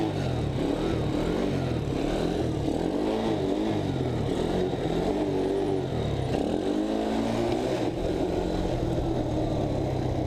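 An X18 small motorcycle engine revs and drones steadily up close, pitch rising and falling as it accelerates, with wind noise throughout.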